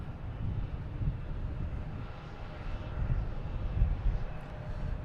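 JetBlue Airbus A321 arriving at Boston Logan Airport, a steady distant low engine roar that swells slightly toward the end, heard alone with faint wind.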